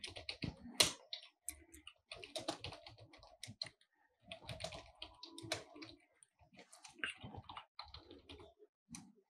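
Fingers type on a computer keyboard in quick bursts of clicky keystrokes separated by short pauses, close but fairly quiet, with no voices.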